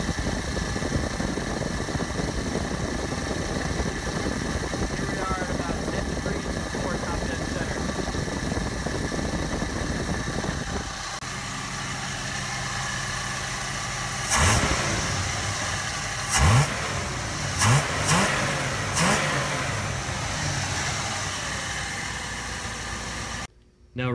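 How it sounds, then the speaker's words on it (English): A car engine idles and revs freely after its ignition timing is advanced to 10 degrees before top dead center, running steadily throughout with several sharp throttle blips near the end. "I really found that the engine is running its best at 10 degrees before top dead center. It's revving freely"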